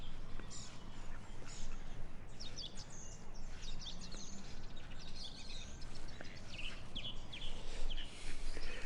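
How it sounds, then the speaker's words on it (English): A group of ducks quacks repeatedly at close range outdoors, with overlapping calls and chirps running over a constant background rumble. "These ducks are definitely a lot more keen, lean and keen."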